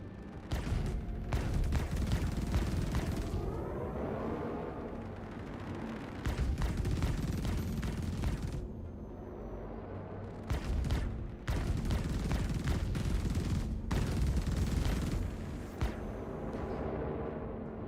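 Heavy weapons fire pounds a ship's shields in Star Citizen, dense loud bursts in long stretches separated by brief lulls, with a faint rumbling drone underneath.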